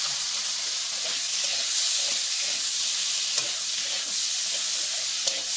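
Potatoes fry in a pan with a steady, close sizzle and hiss, broken by occasional soft stirring knocks and small pops.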